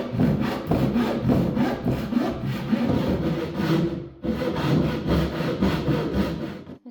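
A hand saw cutting through wood while a camper box is being fitted, with loud, steady back-and-forth rasping strokes, one brief pause, then more sawing close by and with no talk.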